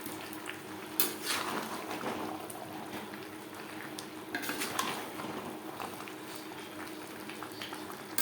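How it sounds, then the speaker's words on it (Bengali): Fried potatoes being stirred with chicken in a pot over high flame for aloo chicken curry, a continuous busy scraping and clattering with a steady bubbling hiss, close and alone. "মাংসের সাথে আলু বেশ ভালো করে মিক্সড করে দেব।"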